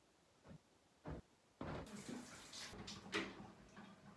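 Shower water starts with a few short splashes, then runs as a steady hiss for a few seconds, quiet and close in a home bathroom.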